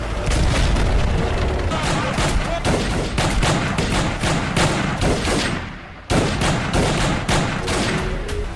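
Gunfire from the action film Kabzaa during an ambush on a car, with dense, loud bursts of rapid shots and booming impacts that keep going nonstop, broken only by a brief drop near the end.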